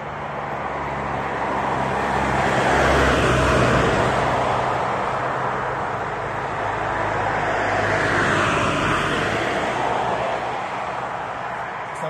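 Cars pass along a roadside where a hitchhiker waits, a steady roar swelling and fading as two vehicles rush by close, with wind and road noise throughout and no talking.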